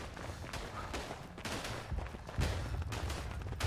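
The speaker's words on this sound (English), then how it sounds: "Somebody is just going ham with the mortars over here." Mortar fire in the video game Verdun, a rapid cluster of loud, booming blasts and cracks overlapping one another in quick succession.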